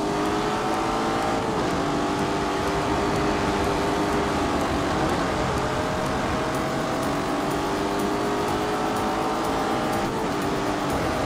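Lamborghini Urus engine drones loud and continuous in The Grand Tour racing game, with the pitch of the engine note sweeping up and down as it shifts and accelerates.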